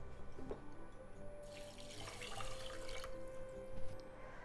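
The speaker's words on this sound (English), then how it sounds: "so I'm adding 2 cups of water" Water pours steadily into a pot of rice for a couple of seconds, a splashing rush that stops and leaves a faint hum.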